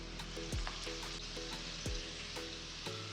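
Fennel seeds, then dried red chillies, sizzling in hot oil in a pan, a steady close crackle and hiss with a few sharper pops, faint and with no talking.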